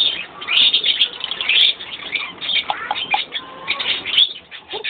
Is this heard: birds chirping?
yes